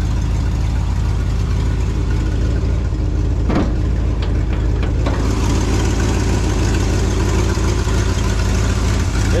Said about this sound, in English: It does sound like there is a little bit of an exhaust leak up there.